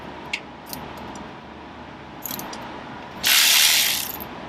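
A ratchet works the 12 mm axle pinch bolt on a Honda CTX1300 motorcycle, giving a few faint clicks early on, then a louder, close burst of rapid ratcheting near the end.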